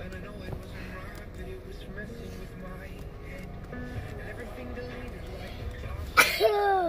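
A single sharp sneeze bursts out near the end, loud and close, after a stretch of quiet background game music and faint sounds.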